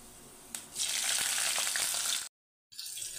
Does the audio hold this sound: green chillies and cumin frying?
yes